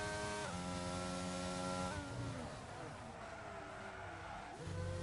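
A Ferrari Formula 1 car in F1 2022 at Abu Dhabi roars with a high, pitch-shifting engine whine as it runs wide, revs dropping and climbing through gear changes, loud and close throughout.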